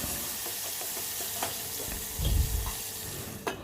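Jackfruit curry masala with tomato sizzling and frying in a pan, a steady low crackle with a brief louder burst of stirring partway through.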